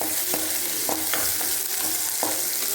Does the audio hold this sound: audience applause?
no